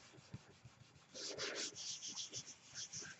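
Paper is rubbed by hand over a gel printing plate to transfer an image, giving a soft, close, rhythmic scratchy swishing in quick strokes, fairly faint in a quiet room.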